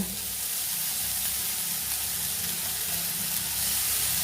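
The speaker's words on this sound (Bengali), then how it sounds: "এই লঙ্কাটা দিয়ে একটু নেড়ে চেড়ে নিয়ে শাকগুলোকে ঢেলে দেব" Leafy greens with chilli hitting a hot pan give a steady, loud, close hiss of frying that holds evenly throughout without any talking.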